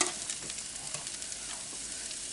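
Halved food placed face down in a hot skillet sizzles and fries with a steady, bright hiss, close and fairly quiet.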